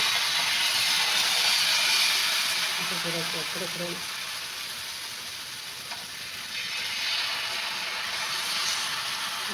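Jowar flour batter hisses loudly and steadily as it spreads on a hot griddle, a continuous close sizzle with a voice talking softly beneath it.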